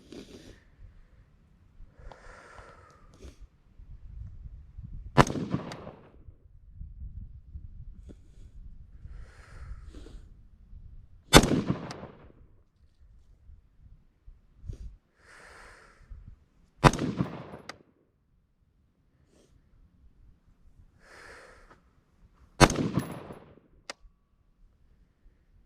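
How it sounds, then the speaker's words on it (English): A Palmetto State Armory PA-15 rifle fires five sharp, loud shots spaced several seconds apart, with quiet movement and breathing between them. "Let's get these 5 shots."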